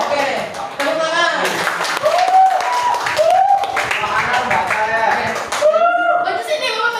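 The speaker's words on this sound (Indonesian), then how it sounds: "Oke, tepuk tangan." Students in a classroom clap their hands loudly and close by, while voices keep talking and calling out over the clapping throughout.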